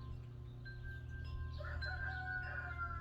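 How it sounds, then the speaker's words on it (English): A rooster crows outdoors at moderate distance, its drawn-out call rising over a steady low background hum. "Finally, a rooster crow."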